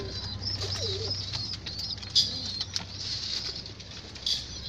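Domestic pigeons cooing softly in a loft, a low rumbling coo near the start, with faint chirps, light patter and wing flutters over quiet background noise.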